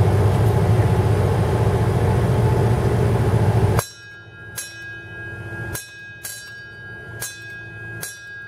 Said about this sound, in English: My son's ready to push the bell.